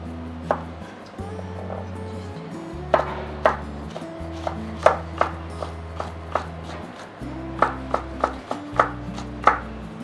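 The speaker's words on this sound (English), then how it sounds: "Gonna chop some chili." A knife chops fresh chili on a cutting board for a prawn breadcrumb topping, a steady run of close, sharp taps that falls into quicker clusters, with no talking over it.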